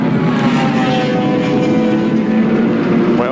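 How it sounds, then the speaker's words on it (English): A BMW touring car at Calder in 1983 accelerates hard down the straight while racing a Commodore, its engine a loud, steady, close droning roar with no talk over it. "The BMW with his long legs, though, winds up and pulls away from the Commodore"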